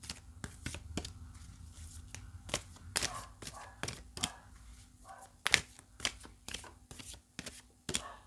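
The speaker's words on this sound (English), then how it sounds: "Let's just give it 1 or 2 more shuffles and we'll get into it." Close, crisp riffling and snapping of a deck of cards being shuffled repeatedly in irregular bursts, with no talking.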